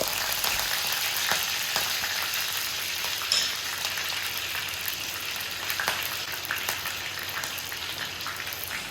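Fennel seeds, fenugreek and curry leaves frying in coconut oil in a pan, giving a steady, fairly quiet sizzle and crackle with scattered sharp pops throughout, no talking.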